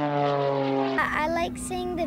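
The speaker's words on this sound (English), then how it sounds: "listen to the roars of planes spanning nearly a century" Vintage propeller airplane engines roar at the Central Texas Air Show in Temple: a loud, steady droning hum that shifts pitch partway through, mixed with crowd noise and a voice.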